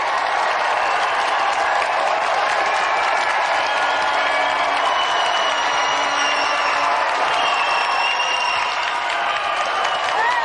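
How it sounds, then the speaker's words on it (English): Studio audience applause on a 1993 GamesMaster television show, steady dense clapping and cheering filling the room for about ten seconds without a break. "give a round of applause for our 3 volunteers"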